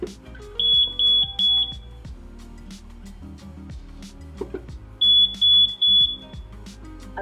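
A smoke detector alarm in a web-based fire detection system sounds in two separate bursts of three loud, shrill high beeps each, with quieter background noise and scattered clicks between the bursts.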